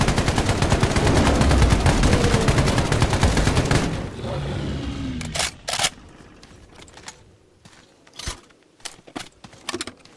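PKM machine gun from a Fallout 4 weapon mod fires a loud, sustained automatic burst that cuts off sharply, followed by a few metallic clicks and clacks of weapon handling.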